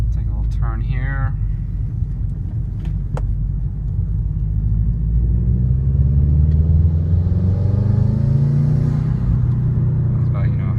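A 2013 Subaru WRX, Stage 2 Plus and Cobb tuned, accelerates at half throttle, its engine rumbling and rising steadily in pitch from inside the car while a person talks over it.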